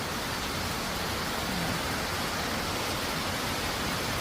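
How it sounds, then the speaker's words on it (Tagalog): Heavy rain pours during a strong storm in Ilocos Sur, a dense, steady hiss that stays loud and unbroken throughout, with no voices. "Napakalakas ng ulan"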